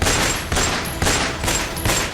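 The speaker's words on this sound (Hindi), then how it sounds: "बदमाशों ने इस दौरान 1-2 नहीं बल्कि 16 राउंड गोलियां चलाई।" Gunfire at a petrol pump in Gokulpuri, Delhi, where 16 rounds were fired: loud, rapid volleys of sharp cracks, close and harsh, repeating about every half second with no voices.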